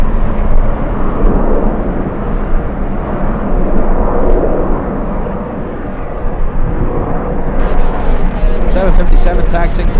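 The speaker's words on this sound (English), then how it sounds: ".757 taxiing to the south side." A Boeing 757 taxis at LAX on a very windy day, its broad steady roar loud beneath strong wind noise, with someone talking over it; sharper crackling bursts come in near the end.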